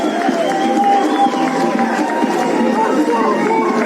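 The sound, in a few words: rugby stadium crowd cheering and applauding a try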